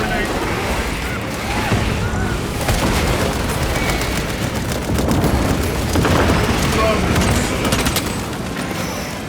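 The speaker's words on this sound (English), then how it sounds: "Frag grenade!" A frag grenade explosion in Warhammer 40,000: Space Marine 2 on PlayStation 5 lands amid a dense, loud wash of booming blasts and rattling gunfire that roars continuously without a break.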